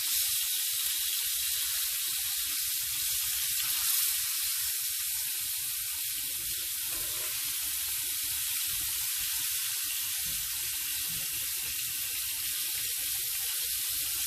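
Floured beef chunks for a rustic stew sear in a hot pan, a steady, close sizzle and crackle of frying holding at an even level throughout with no talking.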